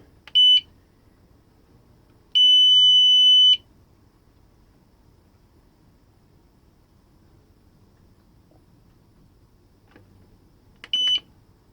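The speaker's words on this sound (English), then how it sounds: "A bleep is a good noise, because it means something's happening." Three electronic beeps from a UPS on a power shelf sound alone against near silence: a short one, a longer sustained tone a couple of seconds later, then another short beep near the end.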